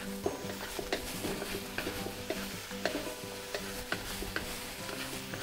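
Pineapple fried rice with onion and pepper stirred and frying in a pan, a steady close sizzle broken by regular scraping and clinking strokes of the utensil, with no talking.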